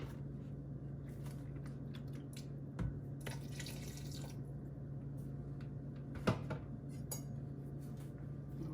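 Water runs quietly from a kitchen tap into a pot of Jamaican-style stew beef with potatoes and vegetables, a soft steady flow with a couple of small clinks of cookware, faint and close.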